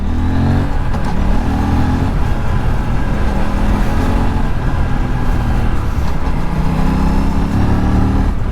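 An Aprilia RS 457 motorcycle's engine drones loudly and steadily while riding, rising and falling in pitch through the gears with wind rush, close and without speech.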